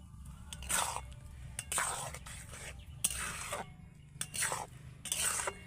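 Semolina being stirred in a pan over medium heat for motichoor laddu: a spoon scrapes and rasps in short bursts about once a second, with a low hum of background noise between strokes.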